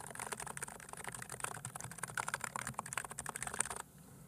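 Fast, continuous typing on a Coca-Cola themed mechanical keyboard fitted with aftermarket keycaps, with crisp, close clicks in a dense, uneven rhythm that stops abruptly near the end, no talk.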